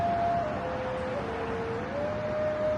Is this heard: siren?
yes